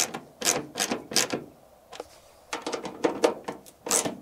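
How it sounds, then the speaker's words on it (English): Screws are driven to fasten a WeatherTech no-drill mud flap onto a Ram 3500 truck, heard as close, fairly quiet bursts of rapid ratcheting whirs separated by short pauses. "I can screw on the new mud flap"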